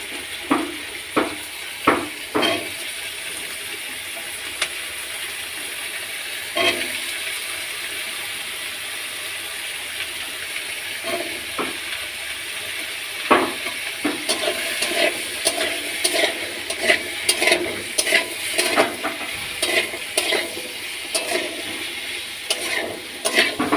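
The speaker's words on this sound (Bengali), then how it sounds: "এবার দেবো আলুগুলো, কেটে রাখা আলুগুলো এবার দিয়ে দেবো।" Chopped potatoes fry in a pan under a steady low sizzle while a utensil scrapes and stirs them in irregular clicking, scraping bursts, busier toward the end, with no talking.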